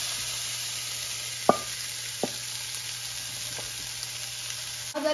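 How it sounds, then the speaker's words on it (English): Onions sweating in oil in a pan give a soft, steady sizzle, with a few sharp utensil taps and a brief clatter at the close, heard alone without speech. "We're gonna sweat down these onions."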